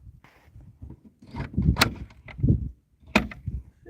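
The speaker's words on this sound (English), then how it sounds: "I created this little door in the side." A small hinged door cut into the side of a septic tank trailer is opened, giving a few close, separate clunks and rattles of metal with short quiet gaps between them.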